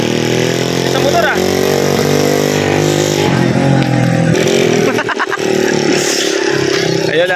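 Motorcycle riding along a road, a loud, steady engine drone with wavering pitch and a few revving shifts, heavy wind rush throughout. Voices can be heard talking over it.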